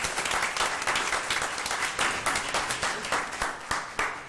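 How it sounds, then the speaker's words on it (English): Enthusiastic applause from the audience at a school board of trustees meeting, a steady, dense clapping throughout with slight pulsing swells. "Let's give them one more round of applause."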